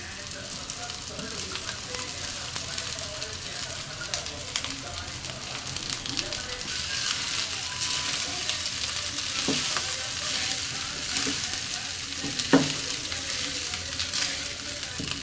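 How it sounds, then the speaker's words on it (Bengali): Cooked rice stir-fried in a pan with a pinch of turmeric, giving a steady sizzling fry with scraping and stirring clatter throughout, close and fairly loud, with one sharper scrape near the end. "এখন দিয়ে দেব ভাত"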